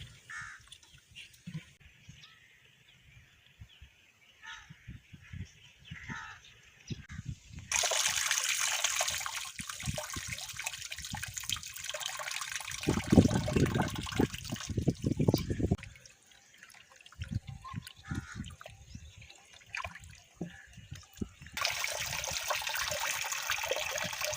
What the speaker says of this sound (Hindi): पानी में धोएंगे इसको।